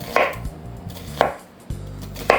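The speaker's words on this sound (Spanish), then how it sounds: "Lo que siguiente que vamos a hacer es cortar la cebolla" Onion being chopped into cubes with a knife on a board: three sharp, close knife strikes at a steady, unhurried pace, with soft clatter from the board between them and no talking.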